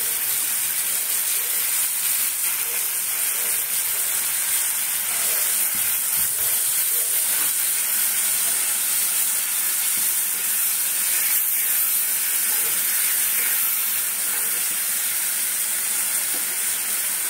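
Onions frying in a pan while cooking jackfruit with prawns, a loud continuous hiss and sizzle with occasional faint clinks, no voices.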